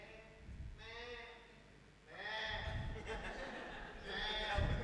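A group of people in a religious gathering imitate goats, giving bleating calls in three wavering bursts, fairly faint and mixed with murmuring voices.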